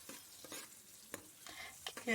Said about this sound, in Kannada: ತುಪ್ಪ ಸ್ವಲ್ಪ ಬಿಸಿ ಆದಮೇಲೆ ಈರುಳ್ಳಿ ಕಾಯಿ ಮೆಣಸೆಲ್ಲ ಹಾಕೋಬೇಕು ಕಾಯಿ ಮೆಣಸು ಹಾಕೋತಾ ಇದ್ದೀನಿ ಸ್ವಲ್ಪ ಬಾಡಿಸ್ಬೇಕು